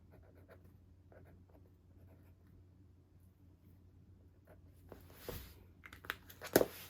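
Quiet pen strokes scratch across paper in soft intermittent bursts over a low hum, growing louder and busier toward the end with a few sharper scrapes, no speech.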